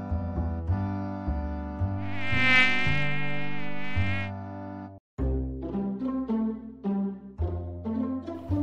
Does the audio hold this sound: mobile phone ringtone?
no